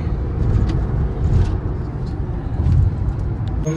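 A car being driven gives off a steady low engine and road rumble that swells and eases slightly, heard from inside and close, with no speech over it.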